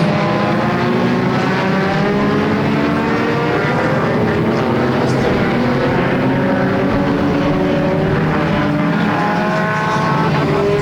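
Stock cars roar around Flamboro Speedway during a Halloween enduro race, a loud continuous layered engine drone from several cars blending throughout with no talk.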